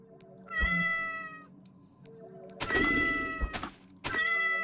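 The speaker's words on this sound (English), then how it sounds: "It's just a cat?" A cat in the video game The Great Abyss gives several loud, drawn-out meows, one early and a cluster of sharper yowls later, heard close and clear over a quiet background.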